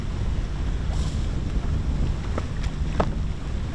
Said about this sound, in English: This is what we do while motoring from one island to the next.